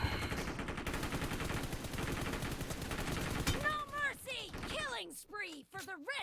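Enemy gunfire in a shooter video game rattles as rapid, steady automatic bursts for several seconds, then a voice starts talking and the shooting gives way to speech.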